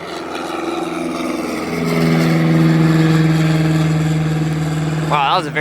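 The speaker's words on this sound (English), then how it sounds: "Wow, that was a very quick takeoff." An airplane takes off at a small airfield, its engine drone rising and then holding loud and steady, with people talking close by.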